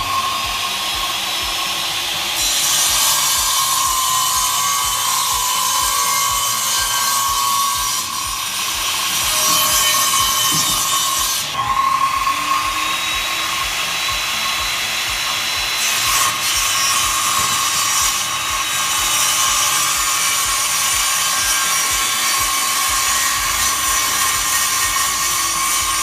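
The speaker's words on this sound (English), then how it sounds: "When in doubt, let Home Depot cut the wood for you." A big power saw at a Home Depot store cuts through wood, a loud sustained whine and rasp that swells in several passes over a steady mechanical drone, with no talking.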